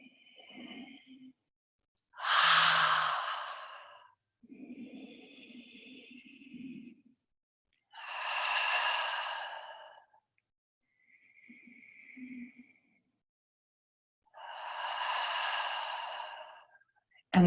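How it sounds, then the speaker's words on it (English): Deep, slow breathing during a seated chair-yoga twist, close to the microphone: long airy inhales alternate with soft, sighing exhales over several even cycles, separated by brief silences. "draw that arm around until you find the seated twist that feels good to you. And just take a few breaths."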